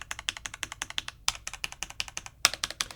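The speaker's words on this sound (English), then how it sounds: "hit the loudest key switch I found, which was the right Alt" Rapid clacking of a Corsair K70 Core mechanical keyboard, dozens of crisp clicks in an uneven typing rhythm, close and fairly quiet, with a few sharper louder strikes from the right Alt key.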